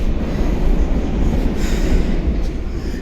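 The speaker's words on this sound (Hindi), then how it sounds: "तो मेट्रो, ये रहा यहाँ का मेट्रो स्टेशन लंदन का, नाइस है।" A London Underground train rumbles loudly through Baker Street station, with a dense, steady low roar of wheels on rail and faint squeals near the end, no talking.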